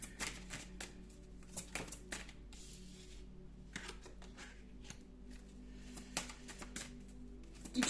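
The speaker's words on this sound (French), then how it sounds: "alors je vais tirer toutes les cartes" Tarot cards shuffled and drawn for a spread, giving a steady run of close, crisp card flicks and riffles throughout with no talking.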